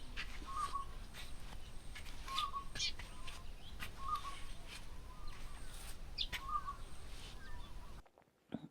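Birds call repeatedly at a quiet campsite by the Pentecost River in Western Australia, with short chirps and whistles recurring every second or so over steady background hiss, fairly faint and distant.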